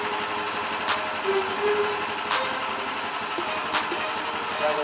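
A cold Predator 420cc 13 hp small engine runs steadily at idle, a continuous mid-pitched chugging drone with faint ticking clicks over it, heard close up.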